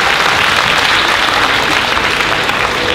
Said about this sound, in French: Je vous demande d'applaudir Tania, qui va vous raconter.